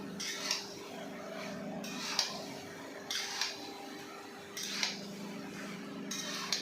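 Spiced jackfruit curry is stirred in a pan with very little oil, and a spoon scrapes against the metal in five or six rhythmic strokes, each a short, distinct scrape over low kitchen background hum.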